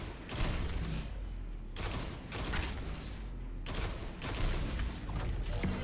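Rapid gunfire in Destiny 2 aimed at floating cubes in the Encore mission, sustained loud bursts of shots in three long volleys with brief gaps between them.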